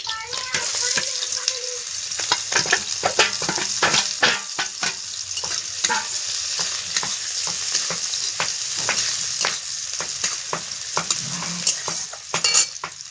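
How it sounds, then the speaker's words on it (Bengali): Green chillies fry in hot oil in a pan, giving a steady, loud sizzle with frequent sharp crackles and pops throughout, plus a few stirring scrapes, and no voices. "তেল গরম হয়ে গেছে, দুটো কাঁচা লঙ্কা দিয়ে দেবো"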